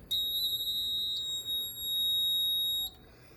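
A Gamewell-FCI E3 fire alarm system sounds its alarm, a loud, piercing high-pitched tone that holds steady, briefly dips and resumes, then cuts off near the end, with quiet background behind it.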